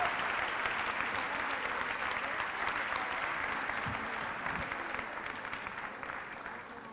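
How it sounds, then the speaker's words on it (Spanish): Audience applause welcoming a bishop at a Eucharistic congress, a steady wash of crowd clapping that continues throughout and fades slightly toward the end, heard without talk. "Recibamos con el aplauso de ustedes a Monseñor José Dolores Grullón Estrella"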